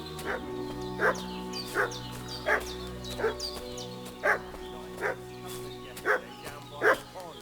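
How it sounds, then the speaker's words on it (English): Dog barking in the medieval game Kingdom Come Deliverance, a string of about nine sharp, evenly spaced barks over a steady ambient drone, moderately close and fairly loud. "What's that dog making such a fuss about?"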